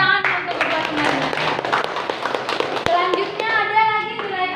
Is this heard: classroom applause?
yes